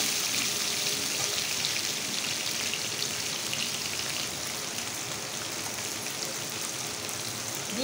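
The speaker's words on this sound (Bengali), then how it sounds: "আলু দিয়ে ভালো করে আমি একটু লাল করে ভেজে নিই" Potatoes fry in a pan with a steady, dense hiss and fine crackle, close and even, resembling light rain, with no voices over it.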